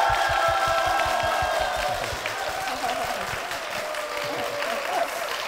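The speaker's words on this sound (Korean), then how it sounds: "성도님들의 뜨거운 환호와 함께 시작을 했습니다." A Korean church congregation cheers and applauds at the start of a televised church program, a broad crowd roar mixed with clapping and shouts, fairly loud and sustained, with voices blending in.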